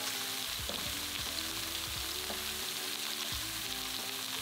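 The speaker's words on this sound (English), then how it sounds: "We're going to cook the salmon with the onions for about 3 minutes until the onion starts to soften." Salmon fillets and chopped onion frying in a pan, a steady close sizzle with soft crackles and the occasional clink of a utensil stirring, no voices.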